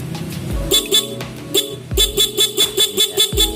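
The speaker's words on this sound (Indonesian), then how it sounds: "ini bunyinya ketika menggunakan ini nih klakson bawaannya" A car's stock factory horn honks in a fast series of short, loud blasts close by, with a steady tone repeating rhythmically after a couple of longer toots.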